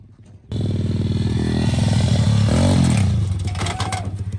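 A dirt bike engine revs loud and close, climbing and dropping through several throttle blips after a sudden start, with a rattly mechanical edge.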